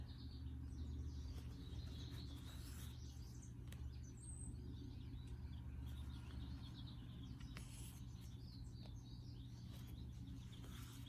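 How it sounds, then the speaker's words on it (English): Small birds chirp and tweet and crows call intermittently at a distance outdoors over a constant low hum of background traffic. "Lots going on outside. Little birds, big birds, crows"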